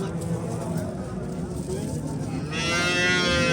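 A dairy cow lets out a long, loud moo near the end, following a stretch of someone talking with some background noise.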